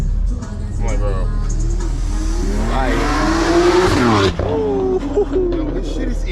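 A BMW X3 M with a loud aftermarket exhaust accelerates hard in traffic, its engine note climbing sharply and then cutting off, while people talk excitedly over it.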